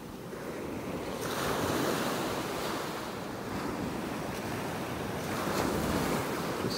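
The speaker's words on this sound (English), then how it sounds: "Maybe these waves were gonna bring some new stuff up onto the beach this morning for us." Ocean waves break and wash continuously onto a Florida beach in North Naples, with a steady roar of surf and wind buffeting the microphone, and no voices.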